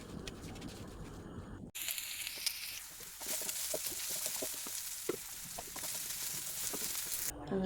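Soybeans coated in masala fry in a pan with a steady, close sizzle and crackle, small pops scattered through it.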